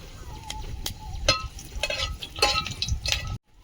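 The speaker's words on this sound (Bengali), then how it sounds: "এবারে তরকারিটা বসিয়ে দেব শুকনো লঙ্কা দুটো" Two dried red chillies frying in oil in a pan as a village-style curry is started, a soft steady sizzle with a few sharp crackles and clinks of a utensil, ending abruptly.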